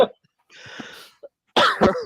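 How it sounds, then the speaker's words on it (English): A person coughs into a microphone, a brief sharp cough at the start, then a softer hoarse exhale, and a louder throaty cough near the end, very close and dry. "Excuse me, coughing into the mic there"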